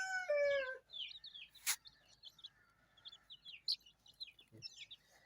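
Young Ayam Cemani chicks, about forty days old, give repeated high chirps and peeps along with soft clucks and other calls, fairly quiet and scattered through a calm poultry pen.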